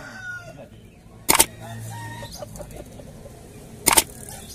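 Two short, loud bursts of Bangkok breed rooster crowing or squawking stand out over a busy morning poultry market background of low murmur and clucking in Kediri, Indonesia.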